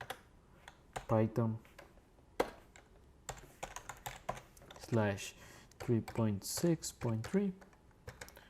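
Keys clatter on a computer keyboard as Python module-load commands are typed in a terminal, with quick clusters of close clicks between stretches of a person explaining.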